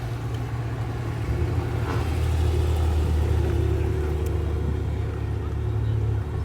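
Deep, steady rumble of an idling Mercedes V8 engine at a Cars & Coffee gathering of classic cars, a continuous low throb close by with outdoor background noise.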